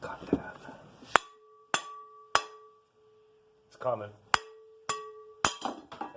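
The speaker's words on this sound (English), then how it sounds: "I can just pound it out of the bearing." A new hammer pounds a part out of a bearing with sharp metallic strikes, about eight of them in an uneven rhythm, each ringing briefly. A voice speaks between the blows.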